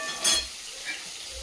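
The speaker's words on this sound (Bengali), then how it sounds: "আলুটা ভেজে নিচ্ছি মাংসের জন্য" Potato chunks sizzle in hot oil for a meat curry, a short soft crackle broken by a stir and a light clink of a utensil against the pan.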